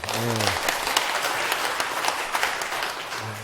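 An audience at a lecture hall talk breaks into dense, even applause that holds steady, with a voice briefly speaking at the very start and again as the clapping fades.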